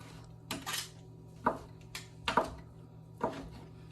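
Chicken being cut with a meat cleaver, four or five separate sharp knocks of the blade against a board spaced about a second apart, close and clear over a quiet background.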